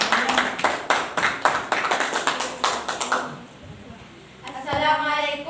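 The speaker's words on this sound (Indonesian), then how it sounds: "Tepuk tangannya dulu sebelum dimulai" Students in a classroom clap in a quick rhythmic group pattern of sharp, evenly spaced claps before a group presentation, then the clapping stops, a brief hush follows and a voice comes in at the end.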